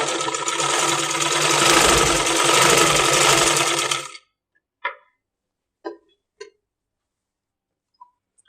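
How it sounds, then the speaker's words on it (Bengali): A sewing machine stitches ladies' pants over elastic, running loud and steady for about four seconds before stopping, then a few brief clicks and taps follow in near silence. "এইভাবে করে আমি সেলাইটা করে নিচ্ছি"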